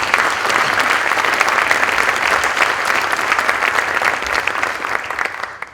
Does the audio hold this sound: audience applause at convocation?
yes